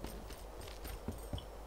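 Horse hooves clip-clop steadily on hard ground in the western video game Call of Juarez: Bound in Blood, a quick even rhythm, quiet and mid-distance, with no one speaking over it.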